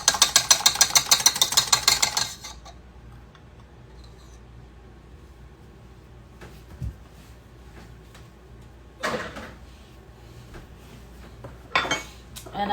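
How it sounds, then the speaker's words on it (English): A stand mixer's whisk is swapped for a paddle attachment: a rapid run of mechanical ticking from the machine stops abruptly, then after a quiet stretch come a few sharp metallic clinks and clatters of the parts being handled. "I'm going to change out this whisk and put in my paddle"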